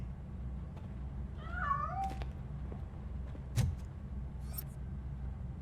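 A cat in the video game RoboCop: Rogue City lets out one short, fairly faint meow over a steady low ambient hum, with a few brief clicks afterward and no talking.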